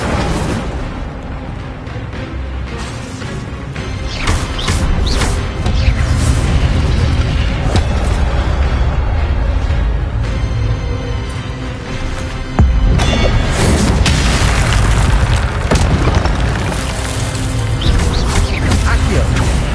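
Fire spell explosions in the video game Hogwarts Legacy thud and boom in a loud, dense flurry during combat, over a constant wash of game sound, with a heavier blast about two thirds of the way through.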